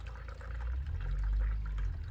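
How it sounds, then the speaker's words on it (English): Hot water is poured steadily into the cooler end of a barbecue smoker, a continuous low rushing fill with little splashing that swells slightly toward the middle and holds for about two seconds. "we're gonna add some hot water. Typically pour it in from the cooler end right now"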